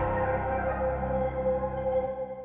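A chopped vocal sample in a hip-hop beat plays at normal speed without halftime, lows cut, giving a sustained tonal vocal line with steady harmonics that holds for about two seconds before thinning out.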